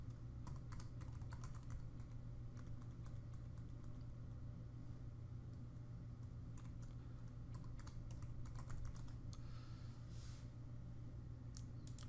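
Someone types a password on a computer keyboard, a run of soft, quick key clicks over a low steady hum in a quiet room.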